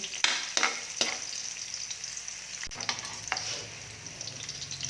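Pork knuckle for crispy pata fries in hot oil toward golden brown, a moderate crackling sizzle with several sharp spatter pops and stirring knocks, close and without voices.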